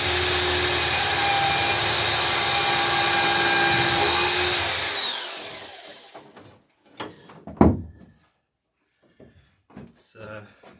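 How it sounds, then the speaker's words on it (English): A power drill whines continuously and loudly for several seconds while boring nail holes in oak boat-building timber, then winds down. Afterward come scattered handling knocks and a voice talking. "I'm drilling the holes larger than I would in pine."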